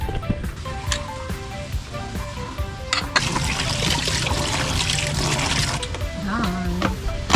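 Water runs and splashes steadily during washing up at a riverside car campsite, with clattering and knocks over the flow and a brief squeaky tone near the end.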